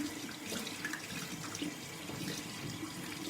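Tap water running from a faucet into a sink while the face is moistened before a face mask, a steady close splashing wash with no talk.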